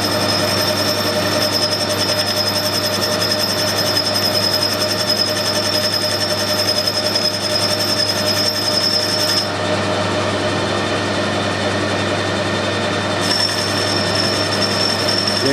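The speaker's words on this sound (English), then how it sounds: "I'll have it with the lathe running forwards and the boring tool in upside down." A metal lathe running forward takes a light cut with a boring tool mounted upside down on a taper test bar, giving a steady, loud, continuous machining whine with a faint high tone throughout and no talk.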